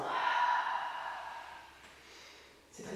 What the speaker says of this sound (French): Cette respiration longue et profonde s'appelle souffle de l'océan.